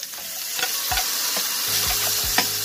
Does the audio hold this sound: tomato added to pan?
yes